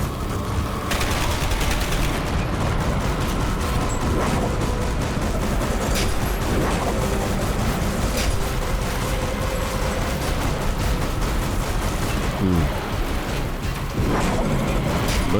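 Sustained gunfire and explosions in the video game Dark Sector, a dense, loud, continuous barrage of shots and blasts with no pauses.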